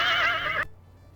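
A horse whinnies in the King's Quest 7 video game, a clear, bright neigh lasting over half a second that cuts off abruptly, heard alone with no talk.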